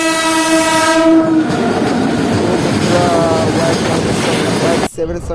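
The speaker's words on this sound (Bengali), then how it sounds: "আমাদের ট্রেন এখন ঢুকছে ভীমতারা রেলওয়ে স্টেশন" A Rampurhat–Andal MEMU train pulls into Bhimtara Junction station, opening with a loud, sustained horn blast over rumbling wheels, then steady rolling clatter with a brief second horn note before the sound cuts off.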